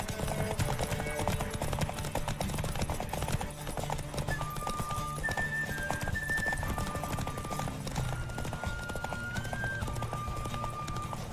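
Rapid hoofbeats clatter steadily throughout, a horse galloping at speed in The Witcher 3: Wild Hunt, with a brief whinny and a continuous busy background wash of game noise.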